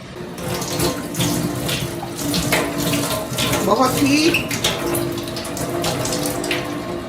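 Silk cloth, a fine dupatta-like fabric, washed by hand under running water, with a continuous splashing flow and sloshing as the fabric is moved about close by.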